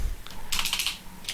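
Close computer keyboard typing: a quick burst of several crisp keystrokes in a short, brisk run.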